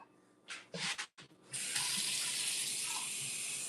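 Water runs from a household tap after a few brief clinks and handling sounds, then flows steadily and loudly as a glass is filled, with no talking.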